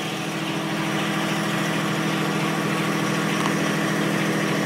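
A tractor engine idles while it warms up, a steady, continuous rumbling drone with faint vibration, close and even throughout, with no talking.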